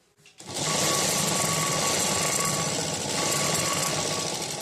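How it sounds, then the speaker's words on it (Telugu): A sewing machine runs a corner stitch on the front panel of a blouse, a steady loud mechanical whir that starts after a brief pause and continues unbroken to the end. "ఇలా క్రాస్ బెల్ట్ వేసుకున్నాక దీనిపైన ఒకటి కార్నర్కి స్టిచ్ వేసుకోవాలన్నమాట"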